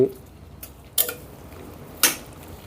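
A utensil stirs tomato and garlic in a pan, giving two or three sharp metallic clicks with soft scraping between them, close and fairly quiet.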